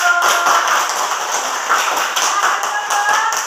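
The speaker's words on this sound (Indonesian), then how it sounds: "Tepuk tangan dulu." Children in a classroom clap their hands together in a quick patterned rhythm, a bright, close burst of patting claps that carries on steadily for a few seconds with no speech.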